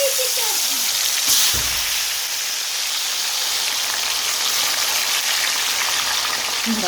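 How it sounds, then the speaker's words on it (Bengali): Tandoori chicken kebabs frying in a pan on two burners, making a steady, fairly loud broadband sizzle that stays even throughout, with one brief knock near the start. "এই যে কাবাব এখন এই যে ভাজবো"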